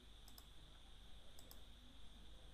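Computer mouse clicking, two quick pairs of soft, close clicks over a faint steady background hum.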